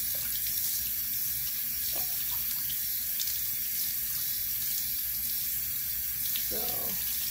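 Tap water runs steadily into a bathroom sink during a nighttime face-washing routine, a continuous close hiss that goes on throughout, with a brief spoken remark over it.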